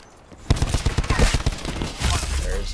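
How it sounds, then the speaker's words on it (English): Gunfire aimed at the player in a video game, a sudden burst of rapid shots and bangs at fairly close range followed by a rumbling, noisy tail. "What the hell is shooting at me?"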